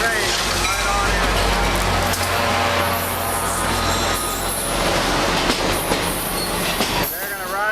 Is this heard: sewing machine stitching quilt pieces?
no